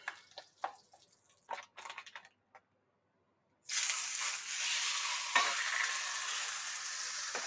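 Rump steak drops into melted tallow after a few scattered knocks and a short silence, then a loud, broad frying sizzle rises sharply and holds steady to the end, with no voices.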